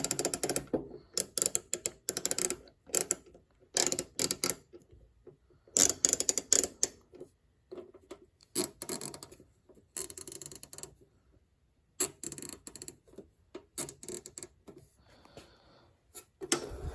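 A Gearwrench flex head ratchet, a budget-line hand tool, clicks in close, sharp bursts of rapid pawl ticks separated by short silences, repeated many times with no talk.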